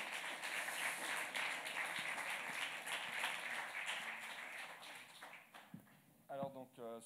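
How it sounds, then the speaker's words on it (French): Audience applause for the two women who organised an evening event at GEPOG, a steady broadband clatter of many hands filling most of the clip before fading out, with a voice speaking briefly near the end. "qu'on va aussi applaudir de nouveau"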